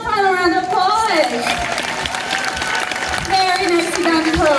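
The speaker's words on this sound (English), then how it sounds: "Let's give him one final round of applause." An audience claps at an animal show while loud whistles and a voice ring out over it, the applause a steady wash underneath the brighter tones.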